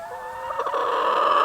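Several hens cluck and squawk together, a loud, busy chorus of close poultry calls with no talking.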